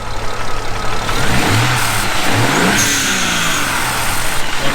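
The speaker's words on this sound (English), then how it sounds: "you want to give it some revs?" A BMW 335i car engine revs hard several times, pitch sweeping up and falling back, over a steady close idle with no talking.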